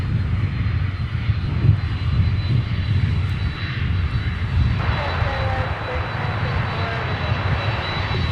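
UPS Boeing 767 from Louisville rolling on a taxiway at Minneapolis–Saint Paul airport, a loud continuous jet engine roar and rumble with a faint whining tone entering partway, heard from nearby outdoors.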